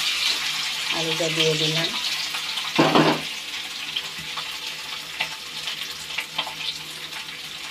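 Boiled, mashed potato drops into hot oil with cumin seeds in a kadai, giving a brief loud sizzle burst that settles into a steady frying hiss, with a short spoken phrase just before.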